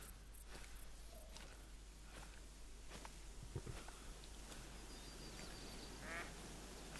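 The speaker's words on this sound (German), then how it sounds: "Ja, das sind die Enten." Ducks quack in the hunting video game theHunter: Call of the Wild, a brief call set against steady outdoor ambience with faint scattered clicks.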